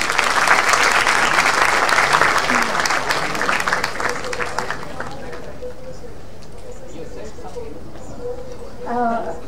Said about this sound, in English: Applause for our Vice Chancellor, Professor Jagdish Kumar.